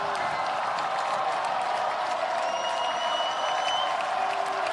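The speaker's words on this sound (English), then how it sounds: "Waukee crowd fired up. You can hear them now." Waukee home crowd at a high school football game cheering and applauding, a steady, broad roar from the stands with a few whistles rising above it, lasting the whole moment.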